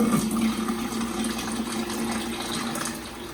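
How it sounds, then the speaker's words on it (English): Filtered water pours steadily into a jar, making a continuous loud gushing and splashing for several seconds without a break, with no talking. "I'm going to pour it out and see how clear it is."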